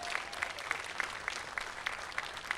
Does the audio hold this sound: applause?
yes